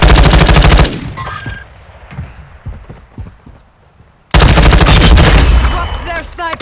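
Loud automatic gunfire in a multiplayer video game with proximity chat: a rapid burst, a quieter stretch of scattered distant shots, then another close, sustained volley.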